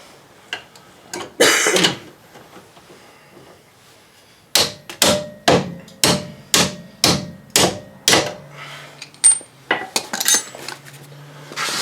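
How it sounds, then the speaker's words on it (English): A run of sharp metallic taps from a hammer tapping bolts out of a Hyundai Elantra, about a dozen evenly paced strikes close up, with a few scattered clinks before them and no voices. "these are just going to take a little tapping to get out"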